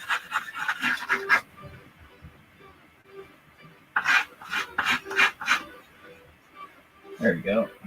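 Sandpaper of 100 grit rasps in short repeated strokes across a wooden name sign, two bursts of scratchy rubbing separated by a pause, close and moderately loud.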